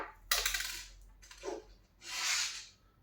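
Small plastic polyhedral dice rattle and clatter out of a snap-open keyring case from a Christmas cracker, a sharp burst of clicks followed by a softer tumble and a final brighter rattle, close and fairly loud with no talking.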